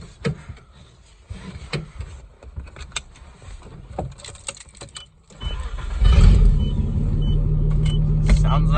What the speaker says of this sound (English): Sounds like a tractor.